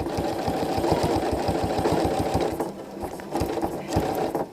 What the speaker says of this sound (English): now the machine will stitch as you move your ruler